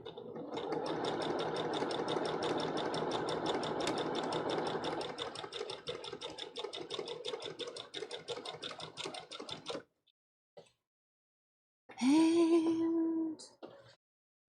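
Sewing machine stitching a cosplay Jolly Roger flag: a steady, rapid mechanical whir runs for about ten seconds and then stops, followed by silence and a short voiced sound.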